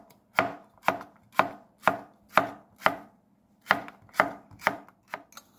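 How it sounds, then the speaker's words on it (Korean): A knife cuts cucumber on the bias against a cutting board, a steady series of about a dozen crisp chops in an even rhythm with one short pause, close and clear with no talking. "어슷어슷 썰어요."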